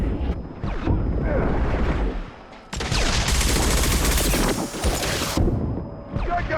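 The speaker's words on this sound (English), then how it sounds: "Shotgun!" Shotgun blasts and dense combat gunfire from the sci-fi shooter Mass Effect 2, with loud heavy bursts that swell into a sustained roaring barrage before easing off, fairly close and dominant.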